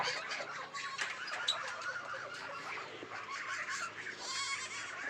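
Several goats bleat in a noisy village farm setting, their calls overlapping and continuing steadily with other farm animal noises mixed in.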